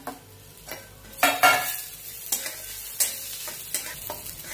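Dry coconut roasts with golden-browned onions in a pan, sizzling steadily while a spatula scrapes and clinks against the metal in regular strokes, close and fairly loud, with no voices.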